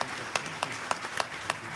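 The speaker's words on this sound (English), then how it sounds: "we could give all of our panelists another round of applause" Light applause for panelists at a renewable energy conference, a small scattering of distinct claps at a steady pace, fairly faint.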